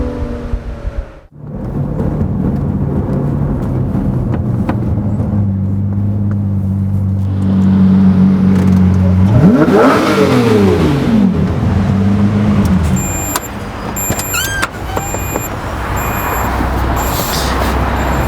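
A Lamborghini Murciélago engine idles with a deep rumble, then revs sharply up and back down, with the roar rising and falling before settling.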